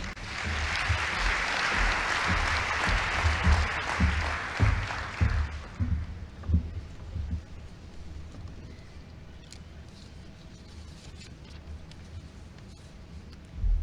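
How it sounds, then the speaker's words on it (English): A crowd at a Science Week South Africa event applauds steadily for about six seconds, then the clapping thins out and fades into a quiet room with scattered small noises. "A round of applause for the Vice Chancellor."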